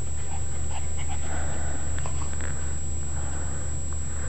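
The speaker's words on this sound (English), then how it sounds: "You're such a good puppy." A puppy panting steadily up close, quick rhythmic breaths over a constant low hum, with no one talking.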